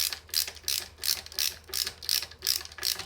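A ratcheting tool tightens screws on a bass guitar, giving a close, even, repeated clicking in regular strokes about every half second, with no talk.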